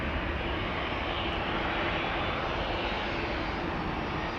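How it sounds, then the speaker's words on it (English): A steady, loud jet roar from a KLM Boeing 737-800 departing Amsterdam Schiphol for Stockholm, heard up close as a dense, unbroken engine rush with no talking. "This is KLM flight 1217 going to Stockholm, 737-800, the PHBCE."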